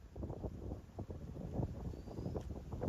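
Strong wind sweeps across open farm fields under a rain-cloud sky, buffeting the microphone in steady low gusts that rise and fall with no talking.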